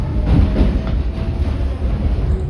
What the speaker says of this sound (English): Alright, this D train.